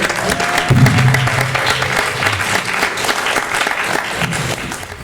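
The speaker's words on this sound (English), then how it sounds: "Let's give him a round of applause." An audience applauds at a talk show on dancehall culture, a dense, sustained burst of clapping that fills the room and tapers slightly toward the end, with a brief voice near the start.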